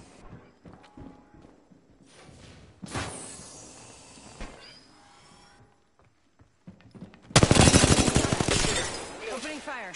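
Gunfire in the battle royale game Apex Legends: scattered quieter footsteps and clatter, then a sudden loud, rapid burst of automatic fire near the end.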